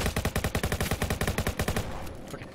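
Rapid automatic gunfire from the Roblox game Jailbreak rattles in a fast, even burst of sharp shots for nearly two seconds, loud and close, then cuts off.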